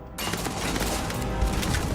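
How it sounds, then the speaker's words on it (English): An explosion from a frag mine in the space game Starfield bursts in loudly near the start and then rolls on as a dense, sustained blast and rumble, with no voices over it. "Frag mine."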